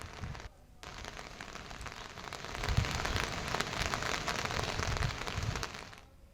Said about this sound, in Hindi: चमोली के ज्योतिर्मठ में बारिश बर्फबारी का दौर लगातार जारी है।